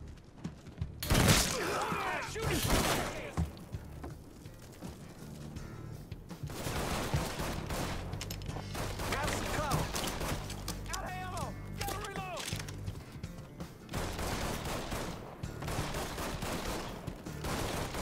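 Gunfire in the Mafia III video game, with a loud shot near the start followed by scattered bursts and rattling fire amid a busy, noisy game soundscape, some voices speaking over the action.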